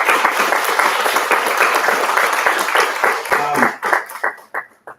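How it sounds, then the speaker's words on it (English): Dense applause and clapping from an audience at a school board meeting, steady and loud for several seconds before thinning into a few scattered claps and fading out. "I just want to give a round of applause to the classified and teachers that are still here of the year."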